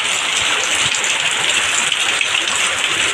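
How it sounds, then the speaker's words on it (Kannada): Steady, heavy rain pours down in a dense, constant hiss with no letup and no voices. "ಮಳೆ ಜೋರು ಬರಾಕತ್ತೈತೆ ನೋಡಿ"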